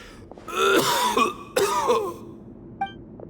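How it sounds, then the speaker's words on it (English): A character in a Genshin Impact cutscene coughs and clears his throat harshly in two close bursts, followed by a faint short sound. No speech is heard. "Why is he coughing so much?"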